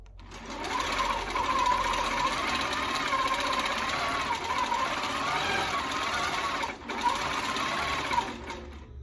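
A long arm quilting machine stitches across a table runner, running continuously with a fast, even mechanical hum and rattle for several seconds, briefly dipping once before resuming.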